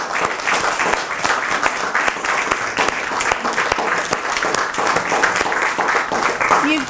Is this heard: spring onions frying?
no